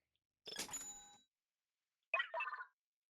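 A purchase chime from the Ratchet & Clank video game: two short bright electronic bursts, a shimmering register-like jingle followed by a briefer ding about a second and a half later, clear and alone.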